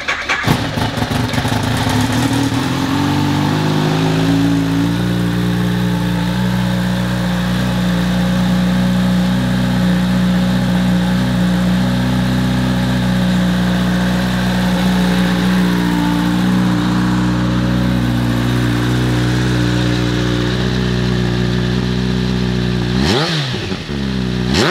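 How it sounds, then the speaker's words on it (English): A 2022 Kawasaki Z H2 motorcycle starts up and settles into a steady, loud idle close by, its engine running alone for over twenty seconds with a brief blip near the end. "Let's fire it up and listen to how she sounds."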